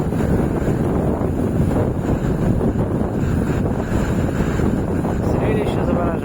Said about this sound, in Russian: Там идет еще вон большая волна.